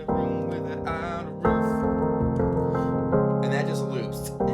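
A piano plays the chorus of a song in a steady, looping pattern of sustained chords with a melody over them. The phrases restart with clear attacks at regular intervals, and no one talks over the playing.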